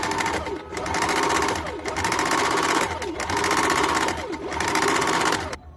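A sewing machine stitches a blouse strip at a half-inch seam, running in steady whirring bursts of about a second each with brief pauses between them, close and clear.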